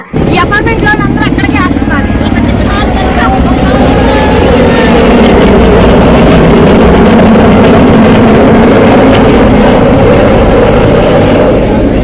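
Helicopters fly low over apartment buildings in Vijayawada's Wambay Colony, dropping food and essential supplies. Their engines and rotors make a loud, continuous roar that fills the whole stretch.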